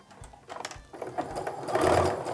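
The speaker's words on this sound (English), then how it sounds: "I'm gonna go ahead and sew the bottom half of the block as well at this time." A sewing machine stitches the lower half of a starburst quilt block with a quarter-inch seam, its motor whirring in short bursts that build to a steady run, close and alone.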